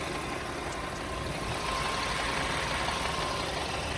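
A Volkswagen Touran Cross's 1.4 TSI engine idles steadily and close, a constant even hum with a faint rattle, no voices.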